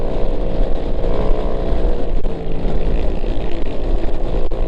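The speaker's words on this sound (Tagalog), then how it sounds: "Ang ingay na ng motor natin." A Kymco motorcycle engine running loud after a part was removed during a Bacolod unity ride, a continuous, close, rough roar with a brief dip midway and no speech.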